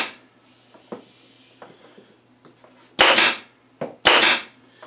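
An Anvil pneumatic pin nailer fires 23-gauge pins into wood: two loud, sharp pneumatic bursts with brief hissing tails, plus a smaller click before the second, amid light handling taps.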